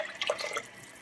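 Filtered water pours into a soup pot of broth for wild rice and celery root soup, a short, soft splash and trickle lasting about a second, close and moderately quiet.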